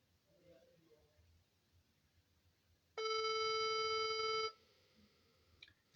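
A telephone call tone sounds loud and steady for about a second and a half while a call is being placed, set between quiet stretches of faint room noise.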